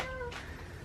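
A hungry pet cat gives a single clear, rising-then-falling meow close by, heard alone against a quiet indoor background.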